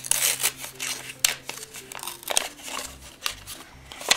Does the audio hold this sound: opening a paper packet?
yes